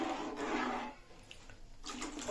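Water from a glass pouring into a sour fish curry in a pan, a splashing gush that pauses briefly and resumes, close and fairly quiet.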